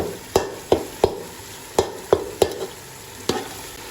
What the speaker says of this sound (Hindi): और इसको भी अच्छी तरह से मिक्स करेंगे हम।